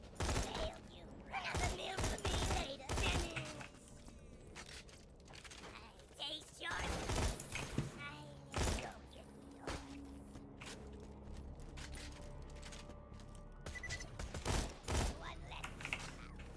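Green-rarity minigun firing in Borderlands 2, rattling out dense bursts of rapid shots that stop and start across the stretch, with a voice talking over parts of it.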